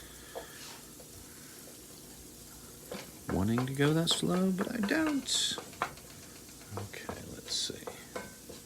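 Peppers for a Denver scramble frying in a pan give a low, steady sizzle with occasional utensil clicks, while a person speaks briefly near the middle.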